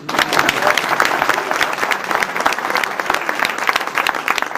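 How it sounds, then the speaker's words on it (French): A village audience claps for two municipal employees at a 2011 local community performance, steady dense applause filling the room, loud and close, with a few voices faintly mixed in. "je crois que l'on peut applaudir Gérard et Monique, nos employés communaux."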